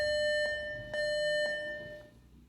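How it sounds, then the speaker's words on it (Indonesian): Mosque prayer-time TV display giving its beep alert: a series of sharp electronic tones, about five evenly spaced beeps, clear and close with a steady pitch and no talking. "Bip itu seperti ini suaranya."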